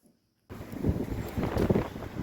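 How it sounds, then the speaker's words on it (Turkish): Strong wind gusts through a city street in Novi Sad, buffeting the microphone with loud, rumbling roars that swell and fade after a brief near-silent start, no voices heard. "Bugün şehir çok rüzgarlı."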